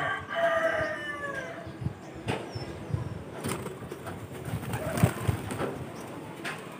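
Pigeons released from a loft on an overcast day, with cooing and rooster-like bird calls up close at first, then scattered fluttering and rustling outdoor noise as the flock takes off.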